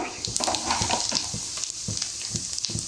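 Tempering spices such as cumin seeds and dried red chillies crackling in hot oil for a tomato pickle, a close busy sizzle with scattered sharp pops and stirring clatter throughout.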